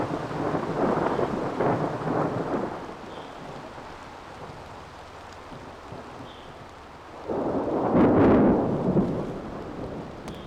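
A rain and thunder effect: a heavy rumble of thunder over steady rain, fading to a quieter wash of rainfall before a second loud thunder roll swells and slowly dies away.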